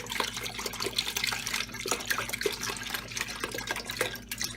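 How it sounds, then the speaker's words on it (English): Half a gallon of milk poured into a pan, a steady continuous liquid splashing and trickling close by for several seconds with no speech. "I am going to start off by pouring all of my half gallon of milk into my pan"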